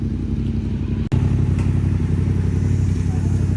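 A motorcycle with an aftermarket exhaust rumbles close by in a deep, loud, steady idle with a brief clatter partway through. There are no clear voices over the engine.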